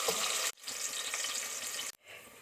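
Chopped onion frying in hot oil with garam masala for a dhaba-style mash dal, a steady close sizzle with two abrupt cuts in the sound.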